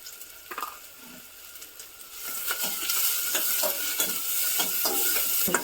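Chopped onion fries with turmeric in a pan, starting as a soft sizzle, then growing louder as a spoon stirs and clicks repeatedly against the pan.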